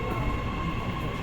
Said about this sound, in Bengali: এই তো মেট্রো যাইতেছে, দেখেন